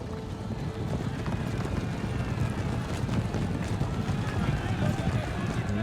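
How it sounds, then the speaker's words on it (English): Cavalry horses charging past a town in the strategy game Empire Total War, a dense, steady rumble of many hooves with a clip-clop texture and wind-like noise, loud and continuous throughout. "Our cavalry is charging past the town."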